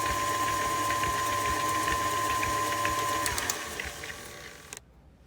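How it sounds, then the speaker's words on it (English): An electric mixer creams butter and sugar for cake batter with a steady mechanical whir and faint rattle up close, then cuts off abruptly near the end. "We're just going to cream together our butter and our sugar."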